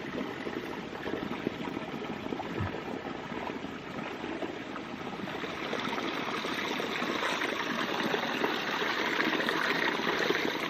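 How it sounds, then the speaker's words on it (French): A small water bottle is filled straight from a fast-flowing mountain stream on a trek in the Basque Country, a continuous rushing, gurgling flow close by that swells slightly toward the end, with no voices. "Il remplit sa petite gourdasse."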